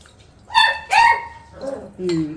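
Jackie, a pet dog, barks in the background of a home kitchen while prawn curry cooks, giving a few sharp, moderately loud barks and yips in quick succession.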